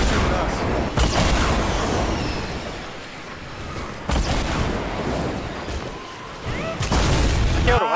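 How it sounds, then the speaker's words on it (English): Loud bursts of gunfire and explosive booms in a Fortnite battle royale match, repeated heavy blasts with dense crackling between them, close and continuous under occasional player chatter. "Everyone's shooting at us."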